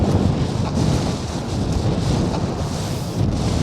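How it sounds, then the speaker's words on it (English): Strong, steady wind on an Arctic mountain peak in Norway in rough conditions, a loud roaring rush that buffets the microphone without pause and nearly fills the whole stretch. "the wind is getting stronger"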